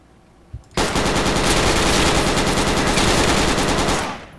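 A long, loud burst of rapid automatic machine gun fire from a first-person shooter video game, preceded by a brief click, then sustained for about three seconds before tapering off.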